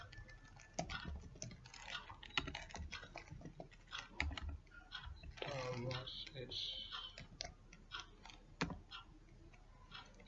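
Fingers type a database command on a computer keyboard, a quick irregular run of close clicks and key taps with a few louder strikes, while a person talks over them.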